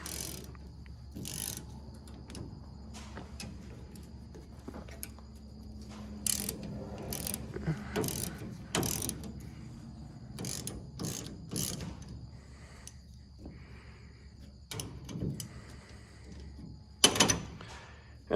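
A ratchet works loose a bolt on the SCH sickle of a combine bean head, giving a series of short, close mechanical clicks and clatters in bursts, with metallic handling noises between them.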